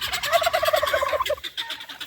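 A rooster in a backyard flock during a sweet potato harvest gives a run of rapid, throaty clucking calls, fairly loud and close, trailing off toward the end with no talking over it.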